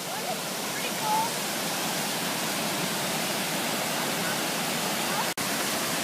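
Broadband rushing of a waterfall and river on the Battlecreek Falls trail in Pleasant Grove, Utah, steady and loud throughout with a brief dropout near the end.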